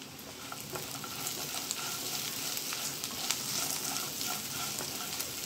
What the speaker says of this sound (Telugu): ఆనియన్స్ ఇలా ఫ్రై అయితే సరిపోతుంది